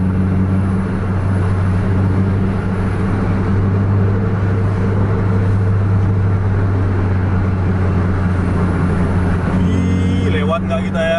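Scania trucks racing along a road at night, a loud, continuous low engine drone with a constant heavy rumble throughout, rising into clattering noise near the end.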